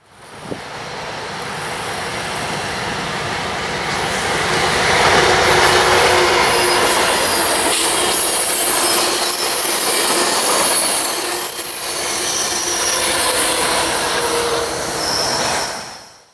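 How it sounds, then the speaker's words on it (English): An Amtrak passenger train of five cars and two F59PHI diesel locomotives rolls past in the Puget Sound area with a steady rumble, rising and then holding, with metallic wheel squeals and clatter before it fades out. "Here they are coming down with 5 cars and 2 F-59 PHIs."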